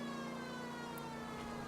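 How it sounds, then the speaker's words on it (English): Emergency vehicle siren in the video game L.A. Noire, a steady sustained wail holding at a constant loud level throughout the short moment, with faint traffic beneath. "Why is he merging when he hears the siren?"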